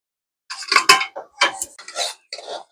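Utensils clink and scrape against a pan as fried water spinach is lifted out, a quick close series of four or five metallic knocks and rattles with short gaps between them.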